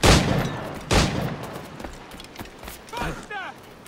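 Gunfire in the video game Assassin's Creed IV Black Flag: two loud, sharp shots about a second apart, followed by game ambience with voices.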